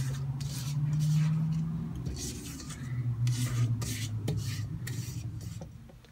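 Spatula scraping thick chocolate chip cookie dough around a mixing bowl, a steady rasping rub rising and falling over several seconds, close and alone.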